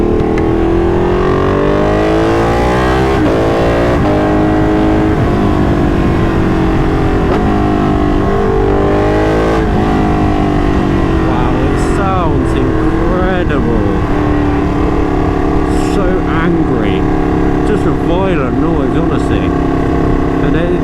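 A Ducati 959 Panigale motorcycle rides along an open road, its engine droning loud and steady with shifting pitch as it pulls and revs, close-up and continuous throughout.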